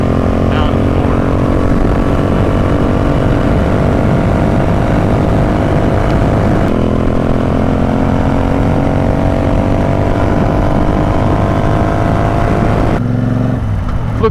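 Custom Royal Enfield motorcycle engine droning steadily while riding, a loud continuous exhaust note with a brief shift in tone partway through and near the end, close and filling the whole stretch.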